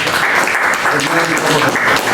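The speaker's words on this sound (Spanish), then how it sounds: "Aplausos nuevamente para el doctor" A crowd at a health forum breaks into loud, dense applause, a steady wash of many hands clapping at once, with a voice faintly audible underneath.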